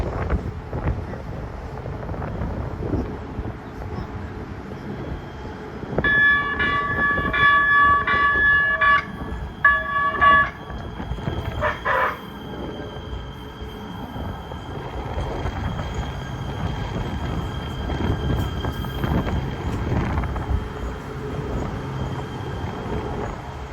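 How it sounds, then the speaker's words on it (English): A Los Angeles Metro K Line light-rail train arriving at Redondo Beach station, a rumbling approach with a bright horn or bell blast in the middle, heard from the platform under gusty wind noise. "it looks like a train's coming"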